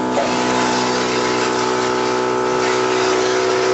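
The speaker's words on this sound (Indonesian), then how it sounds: "Nah, ini si motor nih." An electric single-box misting pump motor, the kind used for swiftlet houses and misting systems, runs with a steady, loud, continuous hum and whir, nearby and unchanging, with no talking over it.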